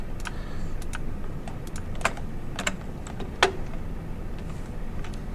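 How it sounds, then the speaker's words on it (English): A few sharp, separate computer mouse clicks come at an uneven pace during mapping work in ArcGIS Pro. They sound close and fairly quiet over a steady room hiss, and no one speaks. "Click, click, click, click."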